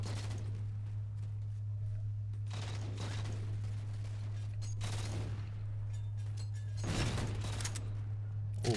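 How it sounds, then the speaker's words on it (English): Sticky launcher fire in the Halo 4 multiplayer game, a few bursts of shots and impacts spread across the clip over a steady low hum, fairly faint, with no voices. "Go sticky launcher."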